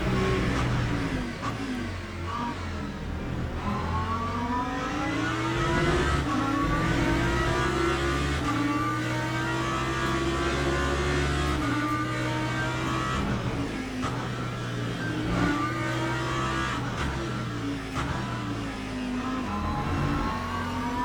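A BMW and a Lamborghini race car in the Le Mans Ultimate sim racing game, a continuous loud engine note that rises and falls through gear changes and cornering, with no talking.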